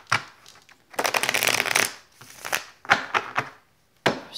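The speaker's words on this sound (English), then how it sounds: "I'm going to shuffle these a couple more times." A deck of tarot cards is shuffled by hand in several close, crisp bursts of riffling and flicking with short pauses between them.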